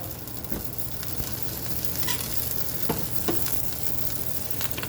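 Garlic sizzles in a tablespoon of oil for shrimp and ham fried rice, a steady close crackle with a few sharper pops and faint stirring, no voices.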